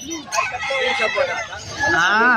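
A hen at a busy pet market gives a few clucks and a drawn-out call amid crowd noise and nearby talk.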